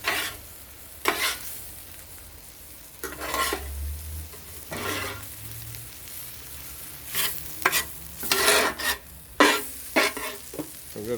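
Mee goreng noodles with bean sprouts stir-frying on a BBQ, a low sizzle punctuated by repeated loud bursts of spatula scraping and tossing against the pan.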